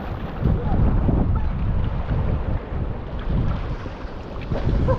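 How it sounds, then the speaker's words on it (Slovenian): Wind gusting across a microphone aboard a Lagoon 43 catamaran at sea, with waves slapping against the hull from the side, a continuous rough rushing noise throughout. "Glavno se tle malo guncamo, od zunaj prihajajo v bok valovi, piha pa sem, tako da."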